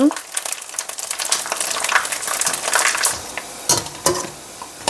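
Strips of beef skin puff and crackle as they fry in hot oil, a dense close-up sizzle broken by sharp crackling pops throughout.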